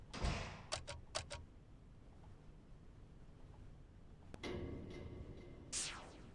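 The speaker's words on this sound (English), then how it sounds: "Gotta open that door." A door opening in the horror video game Shrift 2, with a few sharp clicks and knocks at the start and a heavier creaking swing of the door later, fairly close.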